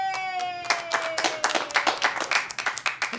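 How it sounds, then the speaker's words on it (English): A comedy club audience bursts into applause after a brief sustained tone, claps rising into a dense, steady patter that carries to the end. "It's the first time I've ever got an applause for that."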